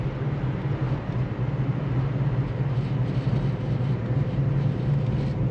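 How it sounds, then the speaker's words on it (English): A 1957 Chevrolet Bel Air restomod with an LS3 V8 runs steadily nearby, a low continuous engine rumble with little change in throttle, with no talk over it. "it sounds so good. You just want to keep playing with the throttle."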